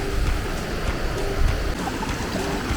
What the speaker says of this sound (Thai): น้ำไหลมาจากบนเขานู่ นเลยค่ะ